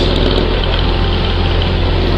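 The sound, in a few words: Ducati motorcycle engine running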